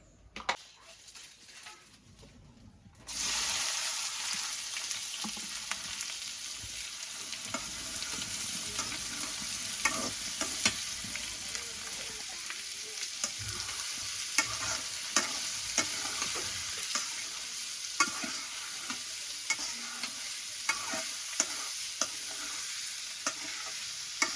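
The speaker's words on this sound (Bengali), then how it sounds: "আমি এখন কড়াইতে এই পেঁয়াজ দিতেছি" Onions dropped into a wok after fish frying, starting with a few quiet seconds before a sudden loud, dense sizzle that holds steady and close for the rest of the clip, dotted with small crackles and faint stirring.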